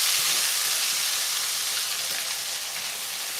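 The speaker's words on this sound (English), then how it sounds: "I'm going to put the chips in to cook, okay?" Chips frying in hot oil give off a loud, steady sizzling hiss that fills the whole stretch without pause.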